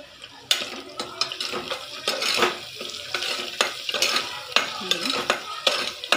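Ginger, garlic and coriander paste with green chilli and curry leaves goes into hot oil in a pot for vegetable masala rice, a soft sizzle running under repeated scraping stirs and metallic clinks of a spoon against the pan.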